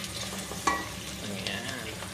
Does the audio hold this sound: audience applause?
no